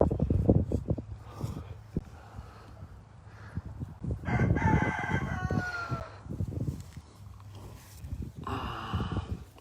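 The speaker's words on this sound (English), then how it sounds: "Scott, can I unplug the rooster?" A ranch rooster crows loudly nearby, two long crowing calls a few seconds apart, with low voices and farmyard noise underneath.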